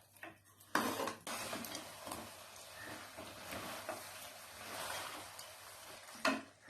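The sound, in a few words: stirring mutton gravy with chili and coriander powder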